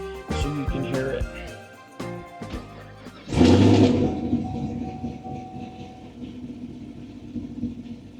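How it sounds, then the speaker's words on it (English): Chevrolet Camaro engine cranks and fires after some clatter and a pause, bursting into a loud rumble that settles into a steady idle, heard close. "Now I'm going to do the startup so you can hear it."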